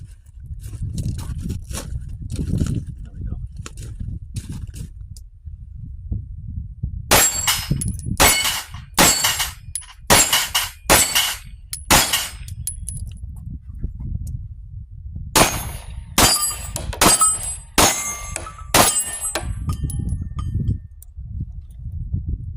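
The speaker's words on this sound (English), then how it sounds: "Always like to give a little shot at the plate rack." 1911 pistol shots striking a steel plate rack outdoors, heard as two quick runs of sharp, ringing clangs and cracks, five or six in each, over steady wind noise.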